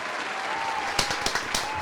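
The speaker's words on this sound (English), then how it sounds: "Slight clap, slight clap." Light clapping from a few people on a podcast set, brief sparse claps over a faint background hum.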